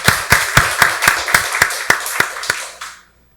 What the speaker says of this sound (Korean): 박수로 하나님께 영광 돌리겠습니다